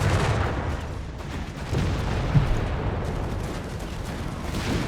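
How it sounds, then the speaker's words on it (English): Distant battlefield gunfire from American units shooting at tanks in Company of Heroes 3, a low rumbling wash of shots and thuds under a steady din, with no talk. "Tanks are being shot at by the Americans"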